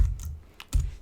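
A few quick keystrokes on a computer keyboard at a Mac while an iOS login screen is built in Swift, short soft clicks close up with no talking.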